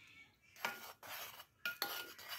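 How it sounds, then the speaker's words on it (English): A utensil stirring sourdough starter ingredients of flour and water in a bowl, a few scraping, swishing strokes in short bursts with brief pauses, close and moderately loud. "I'm just gonna stir those together a little bit."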